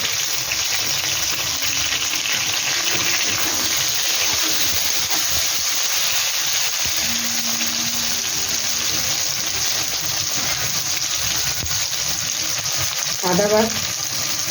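Green chillies and tomato sizzle loudly in a frying pan for a small catfish curry, a dense continuous hiss with bubbling crackle up close, a brief clatter near the end, and no talk.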